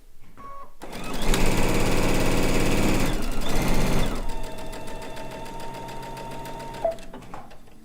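A sewing machine stitches a quilt seam in loud, rapid mechanical bursts, starting up, pausing briefly, then running on at a steady pace with a lighter whir near the end.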